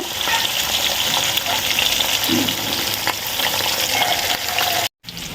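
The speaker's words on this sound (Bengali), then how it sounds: "এবার মাছগুলো আমি উল্টে পাল্টে ভেজে নেব।" Rohu fish pieces sizzling in hot mustard oil in a pan, a loud steady crackling hiss close by with occasional stirring, broken by a sudden brief silence near the end.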